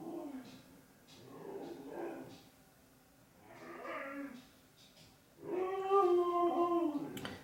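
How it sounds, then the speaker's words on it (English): A pet dog howls and whines excitedly at a homecoming in a series of rising and falling cries, building to a longer, louder tonal howl near the end, with faint other voices in the background. "my dog always goes crazy when we come home"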